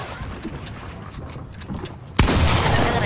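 A gunshot in the Fortnite video game rings out as one sudden, loud, sharp blast about two-thirds of the way through, followed by a lingering noisy tail over busy background game sounds.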